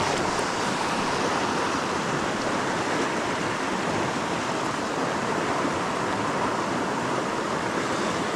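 Strong river current rushes steadily through a clear-water trout stretch in Gippsland, a dense, continuous roar of flowing water close by with no talk over it.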